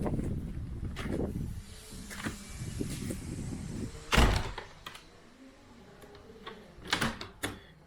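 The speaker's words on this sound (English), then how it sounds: "And then just lock this door." A door in a house under renovation is pushed shut with a sharp thunk midway, followed by softer clicks and rattles of a lock being worked, with quiet handling noises before and after.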